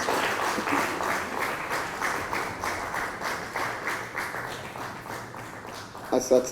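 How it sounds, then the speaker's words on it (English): Audience applause fills a plenary session hall at an African regional conference, a dense steady clapping that slowly thins toward the end, with a few louder close claps and faint voices beneath. "Please give her another round of applause"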